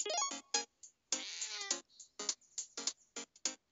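Cat meowing in Grumpy Cat's Worst Game Ever video game, a run of short bright electronic meows and one longer drawn-out meow, clean and close with gaps between.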